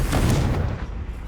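Confringo fire spell explosion in Hogwarts Legacy, a single heavy booming blast that rumbles and fades within about a second, loud and alone.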